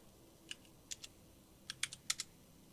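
A handful of quiet, irregular keystrokes on a computer keyboard while entering a console command in the Factorio game, tapped in short clusters against a near-silent background.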